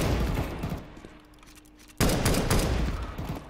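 Gunfire with added effects in Counter-Strike 2, loud bursts of rapid shots that pause briefly and then resume in a second dense volley.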